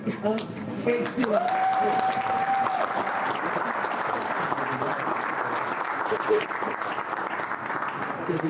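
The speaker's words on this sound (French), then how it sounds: "Je pensais pas être applaudi pour René Lataupe." Applause from an audience at a press conference for the Alsace wine fair, steady clapping that runs throughout at moderate level with voices talking over it and a brief whistle-like tone early on.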